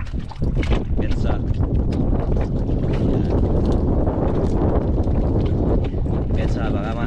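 Strong wind roars and buffets the microphone without a break on a small fishing boat at sea. Rumbling gusts mask most other sounds, and faint voices may be underneath.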